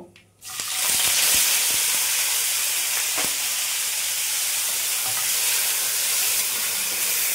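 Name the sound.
frying raw mango in a pan for fig chutney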